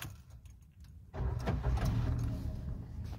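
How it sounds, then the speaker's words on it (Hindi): A Maruti Suzuki Ignis CNG car, still running on petrol, starts after about a second of near silence: a brief crank, then the engine catches and settles into a steady idle. "तो अब गाड़ी करते हैं स्टार्ट और देखते हैं इसमें।"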